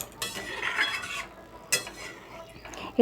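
A spoon stirs potato egg curry finished with mustard oil in a pan, giving soft scraping and a couple of brief clinks against the metal, moderately close, with no voices.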